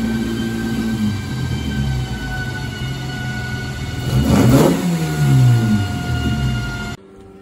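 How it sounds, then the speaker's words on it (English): An Ashley GT Midget's 1293 all-steel engine, with a worn distributor cap carbon brush causing a misfire, idles roughly and then revs up twice loudly and close, with an uneven, stumbling note before cutting off. "We obviously got a misfire there, so we need to find out what's happening."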